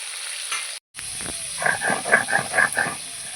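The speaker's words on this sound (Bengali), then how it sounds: "এগুলোকে এবার ভালো করে ভেজে নেব" Live crabs frying in a pan: a brief dropout, then a close hissing sizzle with bubbling crackles and a few stirring scrapes for about two seconds.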